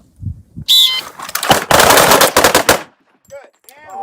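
Handgun fire echoes through a point-shooting drill in a historical handgun class: a dense volley of sharp, loud shots from several shooters fires close together over about two seconds, then falls quiet.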